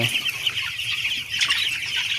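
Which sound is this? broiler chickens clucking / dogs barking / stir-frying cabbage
broiler chickens clucking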